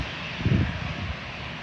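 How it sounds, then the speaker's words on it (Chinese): Air China Airbus A319 landing with reverse thrust deployed, a loud broadband engine roar with a low rumbling surge in the middle, steady and continuous throughout. "反推打开"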